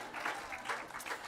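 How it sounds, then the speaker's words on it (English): An audience claps in a brief, fairly quiet burst of scattered handclaps at a summer literary event. "so much clapping. This is great."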